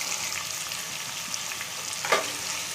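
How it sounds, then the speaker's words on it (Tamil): Drumstick and potato pieces sauté in oil in a pan for kuzhambu, giving a steady soft sizzle with a brief stirring scrape near the end, no talking. "லைட்டாக ஒரு நிமிஷம் வதக்கிட்டு வதங்கிடுச்சு"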